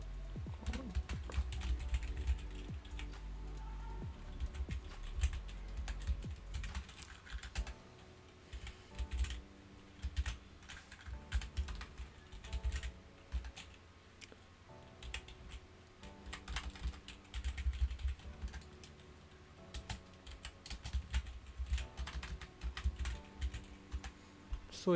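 Fast clicking keystrokes on a computer keyboard, steady bursts of typing with short pauses, close and fairly quiet, no talking.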